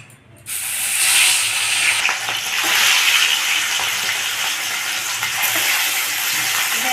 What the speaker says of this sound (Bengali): তেল গরম হয়ে গেছে এবার মাছগুলোকে ভেজে নেবো